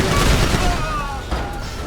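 Heavy machine gun mounted on the Green Goblin glider in GTA V blazes in a dense, continuous roar of rapid fire, loud and close throughout with no pause.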